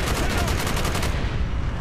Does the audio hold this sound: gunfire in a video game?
yes